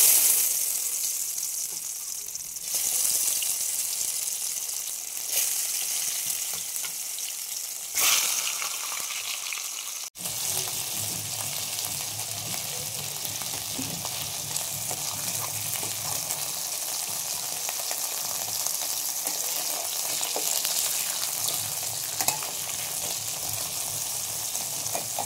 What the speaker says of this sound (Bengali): তো তেলটা কিন্তু আমার গরম করা হয়ে গেছে, এখন আমি মাছগুলো ভেজে নেব।